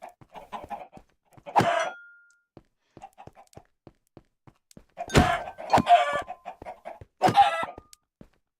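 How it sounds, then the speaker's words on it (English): Chickens cluck in Minecraft in bursts of short clucks separated by near silence, with a few sharper, louder squawks standing out among them. "look at all the chickens up here"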